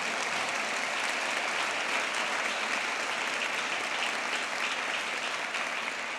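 A church congregation claps during a Spanish-language sermon, a thick, uniform wash of applause from many hands that stays loud and unbroken from start to finish.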